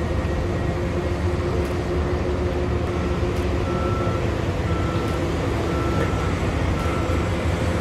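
Caterpillar 785B mining truck at a mine site with its reversing alarm beeping at regular intervals over a loud, continuous engine and machinery rumble.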